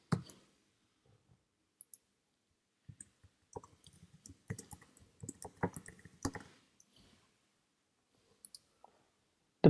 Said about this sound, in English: I'll type my password.